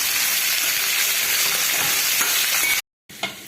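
Boiled koorka (Chinese potato) sizzles loudly in hot oil with fried onions while being stirred in a pan, a constant near frying hiss broken by a brief gap and a clink near the end.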